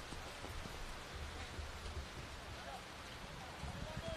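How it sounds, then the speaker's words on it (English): Heavy rain pours down at a League One men's football match, a dense, even roar of falling water held steady throughout and heard at a distance. "There'll be any number of descriptive phrases I can use for the rain here tonight. But it really is cascading down."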